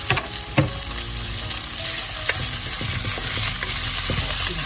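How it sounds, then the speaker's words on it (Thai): Fish stir-fried with garlic, chili and fish sauce sizzles steadily in a hot pan, with scraping and clattering strokes of the spatula close up and no one talking. "ผัดผัดเนื้อปลาให้สุกนะคะ"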